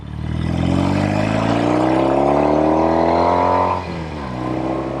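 A Norton Commando 850 Roadster motorcycle riding past, its engine note loud and close, pitch climbing steadily as it accelerates before dropping with a gear change near the end.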